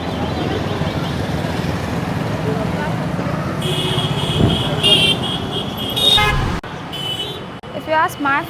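Vehicle horns honk in busy street traffic in Varanasi, India, over a constant traffic rumble. Several overlapping toots and beeps cluster in the second half.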